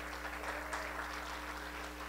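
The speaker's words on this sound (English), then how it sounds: "Come on, give him the biggest hand clap of praise that you can." A church congregation claps for praise, a steady wash of applause with no clear beat that holds at an even level throughout, with no talking.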